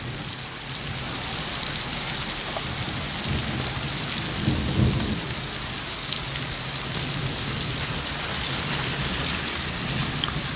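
Heavy rain lashes Tangmarg near Gulmarg in Baramulla district, a constant dense hiss of downpour with a low rumble of thunder swelling midway, no voices heard.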